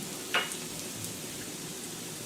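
Onion frying in a pan for a Chinese noodle stir fry, a steady soft sizzle with a brief brighter crackle early on, fairly quiet and alone.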